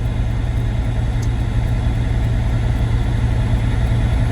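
A manual truck's engine is brought up to 1300 RPM during an air brake inspection. A steady, low, droning rumble holds constant throughout, with no sharp rise or fall in pitch.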